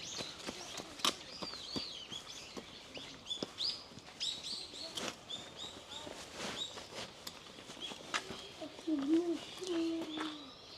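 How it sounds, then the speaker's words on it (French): Birds singing in a quiet park in Okayama, Japan, with many bright chirps and short tweets scattered throughout, some close and some farther off, over soft footsteps and low ambient noise. "je ne sais pas si vous entendez les oiseaux chanter et tout ça"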